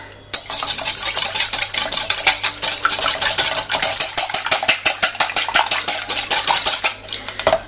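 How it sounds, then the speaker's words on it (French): Two eggs being lightly whisked in a small salad bowl: a brisk, steady run of close metallic clicks and taps against the bowl, continuing without pause. "dans un petit saladier j'ai mis mes 2 œufs. Je vais les fouetter légèrement."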